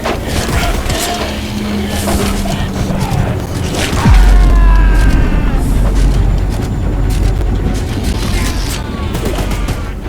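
A mounted gun in the Choo Choo Charles game firing at the monster train Charles, a loud stream of repeated shots with booming hits and mechanical rumble, a heavy low roar surging midway.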